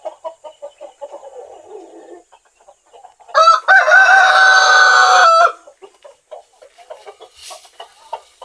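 Rhode Island rooster lets out one loud, close crow lasting about two seconds, set between runs of soft, rhythmic hen clucking.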